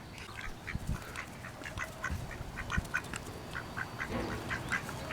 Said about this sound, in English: So yeah, these are all male ducks.